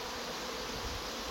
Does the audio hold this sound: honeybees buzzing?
yes